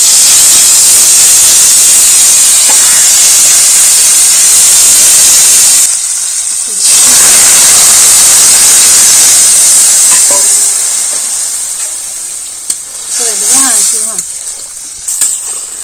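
Small river fish and senchi greens sizzle in hot oil for a chorchori, a loud, close, hissing spit that eases briefly, surges again and then fades, with a voice speaking over the later part.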